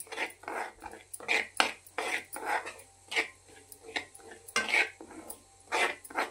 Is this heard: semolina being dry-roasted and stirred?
yes